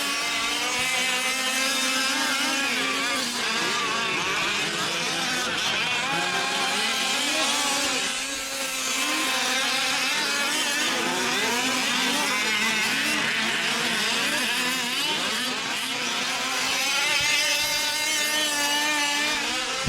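M7 4WD racing trucks roar around a dirt track at an expert main event, with loud, continuous overlapping engine whine rising and falling as they race past, and no speech audible.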